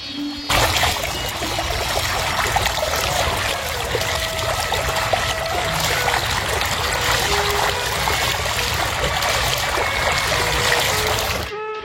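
Water trickles and splashes in an outdoor stream as someone washes their face and takes a drink. The babbling flow is close and steady for the whole stretch.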